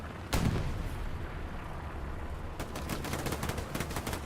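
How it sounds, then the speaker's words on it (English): Artillery shells land nearby in the World War II shooter Hell Let Loose: one sharp, heavy blast, then a rolling rumble and a later burst of rapid cracking impacts, loud and unbroken by speech. "Artillery coming down nearby."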